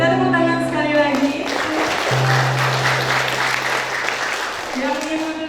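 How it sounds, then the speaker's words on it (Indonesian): Audience applause at a church anniversary gathering, a broad clapping wash that swells in the middle, with a sustained tone and voices around it at the start and end. "Kita tepuk tangan sekali lagi."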